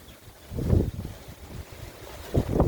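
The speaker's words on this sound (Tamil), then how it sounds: "பயங்கரமாக காற்று அடிக்கிறதுனால அந்த அளவுக்கு எனக்கு கவர் பண்ண முடியல" Strong wind in a home vegetable garden rumbles in low gusts against the microphone, surging twice and buffeting unevenly with no talk.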